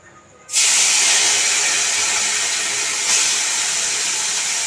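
Small chuno fish coated in salt and turmeric dropped into hot oil: after brief quiet, a sudden loud, close sizzle erupts and holds steady, swelling slightly partway through.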